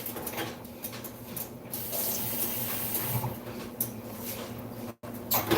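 Tap water runs steadily into a cooking pot at home, a continuous close splashing rush with a low hum underneath, briefly cut off near the end before resuming.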